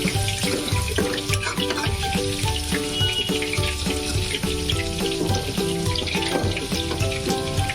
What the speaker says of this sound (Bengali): রসুনটা দেওয়ার পরে আমি এটাকে একটুখানি নেড়ে নিচ্ছি তেলের মধ্যে